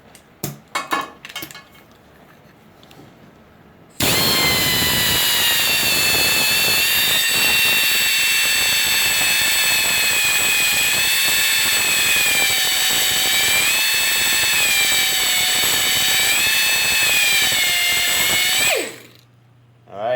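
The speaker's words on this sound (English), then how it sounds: "we're going to go ahead and take our little Mac grinder here, and we're going to go ahead and put a little flat on there" A small Mac grinder cuts a flat onto a metal shaft. It lets out a steady, piercing high whine for about fifteen seconds after a quiet start, then spins down to a stop at the end.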